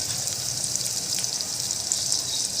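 Onions frying in oil for a mutton curry give a steady, close hiss and crackle of sizzling that runs evenly throughout, with no voices.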